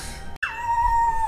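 A puppy dressed in a costume lets out one drawn-out, falling whine, close and fairly loud, with no one speaking over it.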